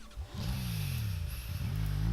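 Motorcycle engine in the video game Hotline Miami, a close, steady revving drone with rising and falling pitch sweeps over about two seconds, heard alone.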